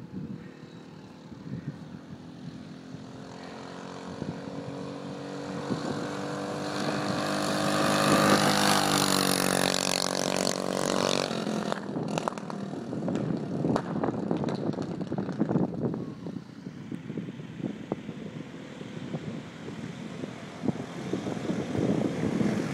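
A home-made go-kart with a modified 6.5hp Honda GX200 clone four-stroke engine revs hard, its buzzing drone rising in pitch as it speeds past at high speed, then settles into rough, uneven running as it slows.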